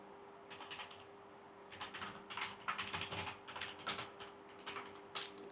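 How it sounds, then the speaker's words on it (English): Keys on a computer keyboard clatter in quick, uneven bursts of close, soft taps, with short pauses between runs and a faint steady hum underneath. "I'll just type this for you."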